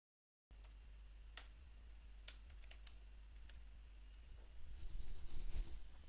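Someone types on a computer keyboard in a quiet room, with scattered light key clicks at an irregular pace that gather into a faster, denser patter toward the end, faint beneath a low steady hum.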